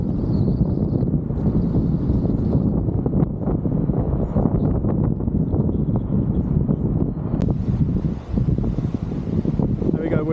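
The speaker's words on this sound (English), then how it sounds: "it's bloody windy, so I'm hoping you can hear me" Strong wind roars continuously into the microphone on a coastal hiking trail by the ocean on the Mornington Peninsula near Melbourne, loud and buffeting for the whole stretch.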